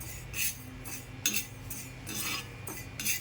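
Panch phoron spice mix roasting in a pan on a gas stove, with soft repeated metallic scrapes and clinks of a utensil stirring against the pan over a faint steady background hiss.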